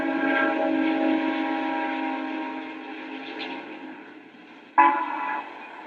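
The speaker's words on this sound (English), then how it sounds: "Except the morning train to Tampa." A morning passenger train to Tampa in a small Florida frontier town in 1971 sounds a long, steady horn-like whistle that fades, then a short sharp blast near the end, with no talk.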